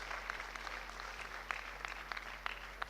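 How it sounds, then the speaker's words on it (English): Audience applause at a graduation ceremony, a steady wash of clapping from a crowd in a hall, moderately loud with scattered sharper claps standing out, no voices over it. "please give another big round of applause for the truly mesmerizing and spectacular"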